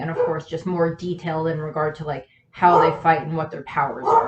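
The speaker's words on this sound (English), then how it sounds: "And you can hear the dog barking again." A dog barks outdoors, faint and intermittent beneath a person talking steadily up close.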